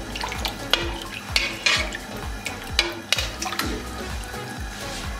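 A spoon stirs chicken soup in a pot just after salt goes in, a rhythmic series of scraping and clinking strokes against the metal over a low bubbling background, close and moderately loud.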